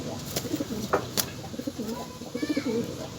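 Pigeons coo softly in low, rolling phrases, repeated several times nearby, with a few faint chirps and small background noises, on a morning after heavy overnight rain.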